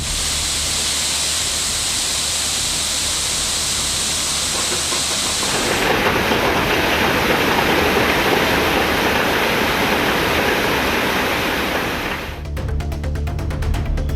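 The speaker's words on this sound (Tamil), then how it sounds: "அணையிலிருந்து அதிகாரிகள் தண்ணீரை திறந்துவிட்ட நிலையில் விவசாயிகள் மலர் தூவி வரவேற்றனர்" Water released from a dam gushes into farm canals as a loud, steady roar that goes on without a break. It grows fuller partway through and hisses harshly near the end, with no voices.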